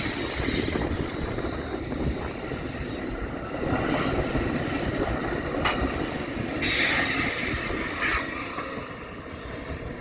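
A long Amtrak Southwest Chief passenger train with extra cars rumbles steadily past close by at Mormon Rocks, wheels clattering and occasionally squealing along the rails, with a broad continuous roar throughout.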